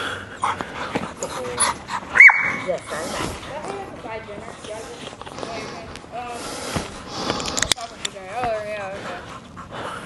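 A dog pants, snorts and whimpers close by during protection bite training with biting equipment, its sounds coming in bursts over steady background noise while people talk throughout.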